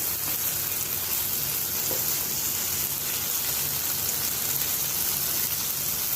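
Ridge gourd curry seasoned with Kashmiri red chili, onion and garlic sizzles softly in a pan as it is mixed, a steady, fairly faint crackling hiss with no talk.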